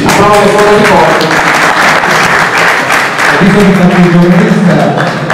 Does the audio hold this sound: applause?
yes